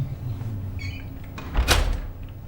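An apartment door in a residential building swings and clicks shut with a muffled thud, preceded by a short squeak, heard at moderate distance over a low room hum with no one speaking.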